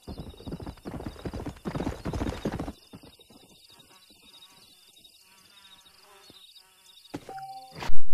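Hooves of a stallion clip-clop at a steady pace in the Western video game Red Dead Redemption, loud and close for a few seconds, then softer over insect-like buzzing, with a brief whinny and a loud burst at the end.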